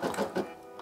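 A Brother SE600 embroidery machine runs a jump stitch, giving three quick close mechanical whirring bursts in under a second before quieting.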